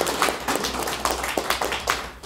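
A church congregation claps during a Sunday worship service, a sparse, uneven patter of hand claps with several sharper individual claps standing out at irregular intervals, fairly close and without talk over it.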